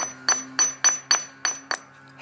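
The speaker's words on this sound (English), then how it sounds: "hammer it, and you can see now everything's pinched together like that" Six sharp metallic hammer strikes on a string light cable fitting resting on an anvil, evenly spaced and ringing briefly, close and loud with a low hum underneath.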